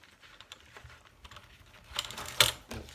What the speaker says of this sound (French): je prends mon massicot et je viens couper